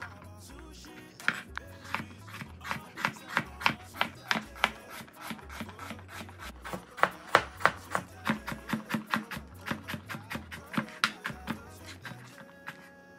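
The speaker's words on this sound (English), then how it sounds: "We'll then go ahead and cut it into smaller pieces to help our blender." Fresh coconut being chopped into smaller pieces with steady, regular knife strikes on a board, about thirty sharp taps in a quick rhythm, close and distinct with no talking.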